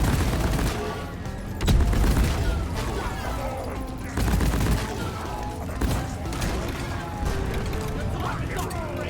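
Grenade launcher blasts in the game Deep Rock Galactic, several heavy booms spread across the span amid clattering mechanical weapon noise and a busy combat din, with a voice talking over it.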